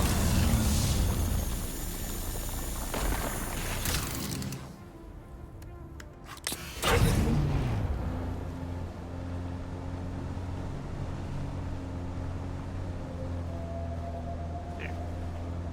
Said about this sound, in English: The sound of this engine is so satisfying.